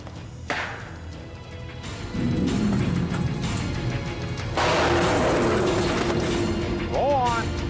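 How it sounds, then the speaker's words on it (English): A cherry bomb set off outdoors to scare off a bear makes a loud, close bang with a rough, noisy burst that lingers, followed by another heavy blast, and brief shouting is heard near the end. "He deploys a cherry bomb."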